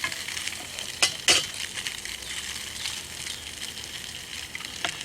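Slices of Spam luncheon loaf sizzle steadily in a small camp pan, a continuous bright frying hiss with a couple of sharp spatters and scrapes near the start, close and moderately loud.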